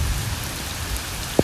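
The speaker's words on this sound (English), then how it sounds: "It is raining pretty good." Heavy rain pours down on a beach in North Naples, Florida, a dense, steady hiss of drops hitting sand and water, close and continuous, with one sharper splash near the end.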